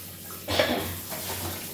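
Filtered RO water running briefly into a milk pot as it is washed, a short near gush of splashing that fades to a softer trickle.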